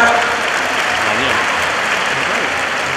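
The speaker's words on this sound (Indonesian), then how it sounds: "Ya, tepuk tangan." Steady audience applause fills the hall at a 2016 public lecture by Indonesia's armed forces commander at Universitas Indonesia, dense clapping from a large crowd with a faint voice underneath.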